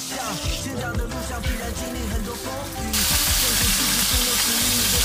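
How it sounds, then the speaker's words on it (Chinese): Fish frying in a hot pan with salt scattered in, a steady crackling sizzle close by that turns noticeably louder and brighter halfway through, with low clattering underneath. "煎鱼，撒点盐，就不会粘锅了"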